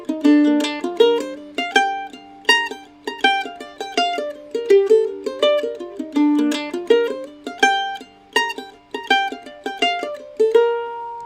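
Mandolin plucked in a steady stream of bright notes, with beats 1 and 3 accented in a repeating pulse, played close and clean without talk.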